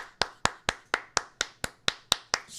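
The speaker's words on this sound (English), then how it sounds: "I'm gonna give you a round of applause" A single person claps about ten times at a steady, moderate pace, each clap sharp and close, with no talk in between.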